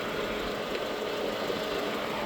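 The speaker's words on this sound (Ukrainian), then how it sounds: "Чуєте, так? кондиціонер вже крутиться." Steady, unbroken hum of a 2007 Opel Meriva 1.4 petrol engine idling with its air conditioner blowing alongside, constant in level throughout.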